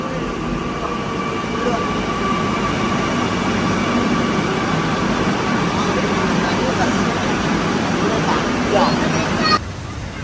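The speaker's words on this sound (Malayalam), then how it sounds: "അപ്പോൾ നമ്മുടെ ട്രെയിൻ എത്തിയിട്ടുണ്ട്." A metro train arriving at a station rumbles steadily with a broad, roaring whoosh and faint tonal whine, holding loud for several seconds before the noise shifts abruptly near the end.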